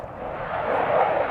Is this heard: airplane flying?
yes